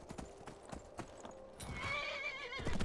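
Horse in Skyrim, hooves clip-clopping in a quick rhythm before a clear, rising neigh at the end, moderately loud with faint background sound.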